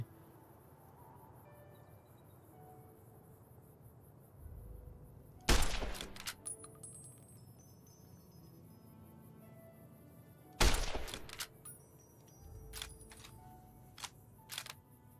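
Two sharp .223 varmint rifle shots in Fallout: New Vegas, a few seconds apart, each a loud crack followed by quick clicks and a short echo over a quiet ambient background.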